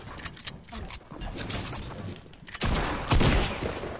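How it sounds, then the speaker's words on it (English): Shotgun blasts from the battle royale game Fortnite, several rough bursts growing louder toward the end, heard under a player talking. "I can't hit him with a shotgun."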